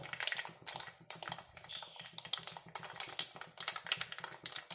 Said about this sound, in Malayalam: കടുക് നല്ല പോലെ പൊട്ടണം ഒച്ചക്കാവോ